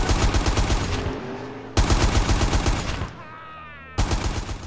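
Rapid automatic gunfire from a modded GTA San Andreas game with new weapon sound effects: loud, close bursts of rattling shots in three runs separated by brief pauses.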